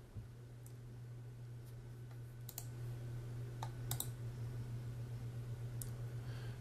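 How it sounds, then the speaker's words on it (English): Several soft mouse clicks sound sparsely during work in Avid Studio / Pinnacle Studio 16 video editing software, faint and close over a steady low electrical hum. "Right click it."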